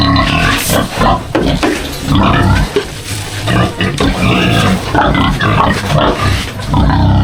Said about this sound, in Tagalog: Ayan mga baboy.